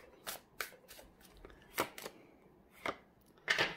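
Oracle cards are handled and shuffled, producing scattered soft, close riffles and slaps at irregular intervals against a quiet background, with no talk.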